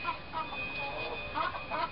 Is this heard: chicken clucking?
yes